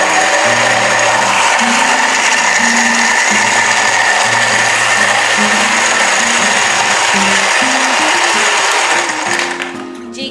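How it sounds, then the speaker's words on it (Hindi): A kitchen blender runs steadily and loudly, blending a mango shake with added ice, a continuous whirring motor drone that holds for about nine seconds before winding down at the end. "अब मैं फिर ब्लेंडर को ऑन करूंगी।"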